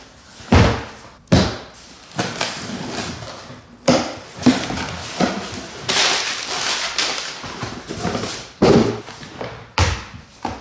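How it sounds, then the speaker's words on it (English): Repeated heavy blows of a cleaver pounding on a cardboard shipping box holding a smart body fat scale, about a dozen loud close thuds and slams at irregular intervals with no talking. "Got my badass cleaver too to open up the box."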